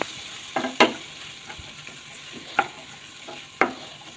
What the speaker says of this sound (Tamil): வாழைத்தண்டு அதோட சேர்த்துக்கோங்க. நல்லா வதக்கி விட்டுக்கோங்க